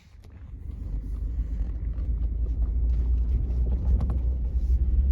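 An ATV drives down a newly cut logging road of rock and clay, its engine a close, steady low rumble that builds in loudness and then holds, with rattles from the rough ground.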